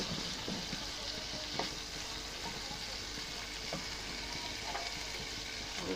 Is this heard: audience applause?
no